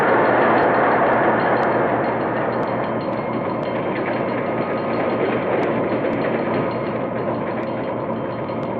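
Baltimore & Ohio Railroad passenger train running on the tracks, a steady loud rumbling roar of wheels and cars that holds throughout with faint periodic clicks.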